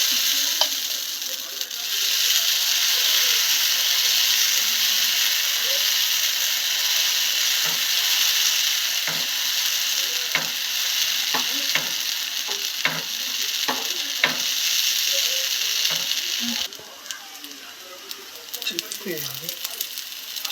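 A corn dosa cooks in oil on a hot pan, giving a steady, loud sizzle throughout, with intermittent scraping and clicking from a spatula and a brief drop in the hiss near the end.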